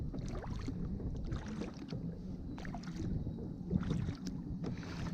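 A kayak paddled on a fast river current near Navy Island above Niagara Falls, with a steady wash of water and rhythmic paddle splashes under light wind noise, fairly close, no talking.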